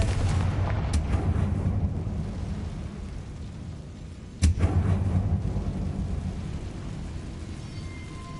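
A rumbling, thunderous spell blast booms in Hogwarts Legacy, with two sharp cracks over a continuous low roar that swells after the second impact.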